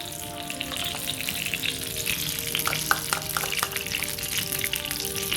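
Four tablespoons of ghee sizzle steadily in a hot pan, a continuous close crackle with a few brighter pops, no talking.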